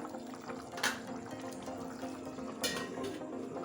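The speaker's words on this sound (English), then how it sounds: "I'm going to stir." Plantain pottage simmers quietly in a pot while a spoon stirs it twice, making soft wet swishes and gurgles over a low bubbling background.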